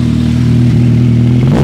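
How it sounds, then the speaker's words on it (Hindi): A Kawasaki Ninja Z1000 fitted with a replica LeoVince exhaust rumbles loud and close with a deep, steady engine drone, then the revs begin climbing sharply at the end as the throttle opens. "अब थोड़ा थ्रोटल दे देते"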